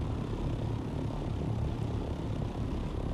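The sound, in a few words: helicopter flying in video game Dune: Awakening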